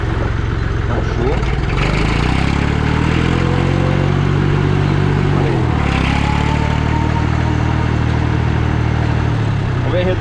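A restored 1964 Massey 50 tractor engine idles loud and close, a steady low mechanical rumble with a brief shift in pitch partway through, running alone throughout.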